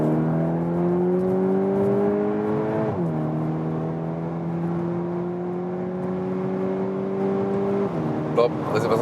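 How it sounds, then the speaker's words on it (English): VW T-Roc R SUV with a 300 hp engine accelerating hard after a manual downshift via large paddle shifters, a loud continuous engine drone rising steadily in pitch with a quick shift drop partway, heard from inside the cabin. "Now we shift down ourselves, and then we can even have spontaneous acceleration."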